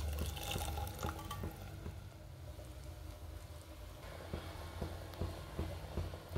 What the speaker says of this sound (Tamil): புளி தண்ணி கொஞ்சம் ஊற்றிக்கலாங்க.